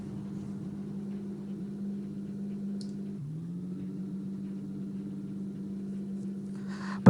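A racing car rolling slowly along a bumpy pit lane at Hockenheim in the iRacing simulator, with a steady low engine drone and rumble, a brief dip in pitch midway, and a sharp knock at the end.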